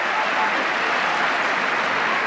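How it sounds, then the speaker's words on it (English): Rugby league supporters applaud at a 1993 Castleford versus Leeds match. Their clapping is a distant, continuous, even roar of crowd noise across the stadium. "Drawing applause from the Leeds supporters."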